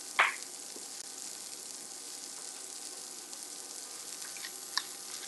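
Bell peppers and eggs frying in a pan on a home stove, a steady soft sizzle with a brief louder crackle at the start and a small pop near the end.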